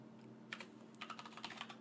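Quick clicks of a computer keyboard as commands are typed for the Police Quest 1 game, a short uneven flurry of close keystrokes over a faint steady hum.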